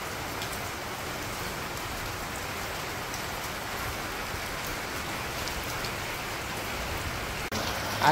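Steady rain falling on surfaces in a village, a dense, even hiss of raindrops throughout with no voices.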